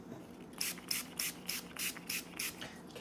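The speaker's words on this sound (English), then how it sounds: "then I just begin to spray the undersides of all the leaves." Spray bottle pumping treatment onto the leaf undersides of a houseplant against mealybugs, about eight quick rhythmic hissing sprays, close and fairly quiet.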